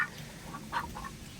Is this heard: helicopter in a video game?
no